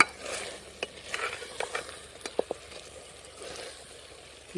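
Eggplants coated in stone-ground masala fry in oil on a wood-fired stove, with a quiet background sizzle broken by soft, irregular stirring scrapes and clicks; no one speaks.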